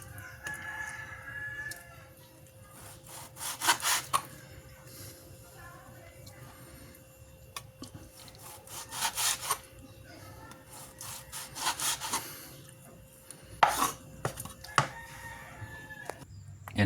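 A knife saws through cooked beef on a board in repeated rasping strokes arriving in bursts, with a rooster crowing faintly in the background and a voice speaking now and then.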